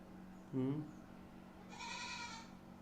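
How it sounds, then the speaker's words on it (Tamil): A goat bleats twice nearby: first a short, strong wavering cry, then a longer, thinner bleat after a pause, over a quiet room hum. "இங்கே ஒரு ஆடு கத்திக்கிட்டே இருக்குது"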